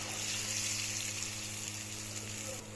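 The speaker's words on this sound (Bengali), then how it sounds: "পেঁয়াজ রসুন আদা ভালো করে ফ্রাই করে নিয়েছি এখন এই মিক্স মশলাটা দিয়ে দেব" Onion, garlic and ginger frying in a pan as mixed spice is added for rui fish head curry with mung dal, a soft, steady sizzle with a faint clink near the end, no talking.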